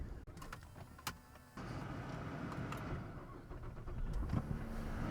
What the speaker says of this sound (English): Gonna crank it up, see if our codes go away.